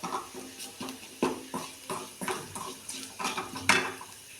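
A spatula scrapes and taps rhythmically against a pan while vegetables are stir-fried, about three strokes per second, close and steady, with a brighter metallic clink near the end and no talking.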